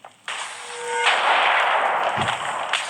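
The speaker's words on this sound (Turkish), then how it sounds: "Kaleyi niye patlattınız oğlum?" A castle blown up in Minecraft: a sharp blast onset gives way to a loud, sustained roaring rumble of explosions that fills the scene, with no talk over it.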